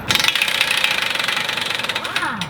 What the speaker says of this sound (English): I use an air wrench.